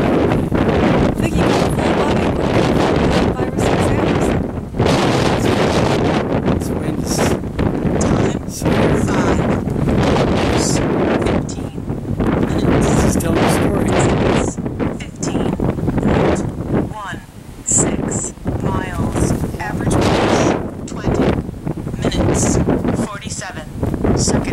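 Strong wind blows along a roadside on Old Highway 66, roaring and buffeting the microphone loudly and almost without pause, with gusts rising and falling.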